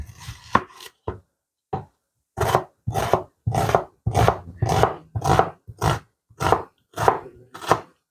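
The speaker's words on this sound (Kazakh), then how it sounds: "Алдымен 2 дана пиязымызды турап дайындап аламыз." A knife chops two onions on a board in rapid bursts: a few isolated cuts, then a steady run of about ten crisp, close strokes with short pauses between them.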